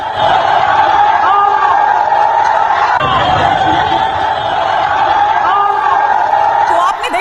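A mob screaming and shouting during an attack on a temple in Bangladesh, a dense, continuous roar of many voices with shrill cries rising above it, loud and unbroken throughout.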